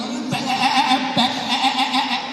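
A goat bleats loudly and close up in long wavering cries, with a short pause between calls.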